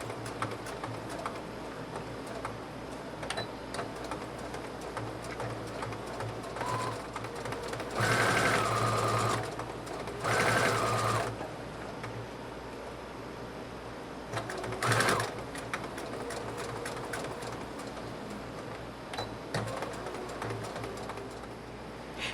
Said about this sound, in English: I'm going to straight stitch as closely as I can along this fold to secure this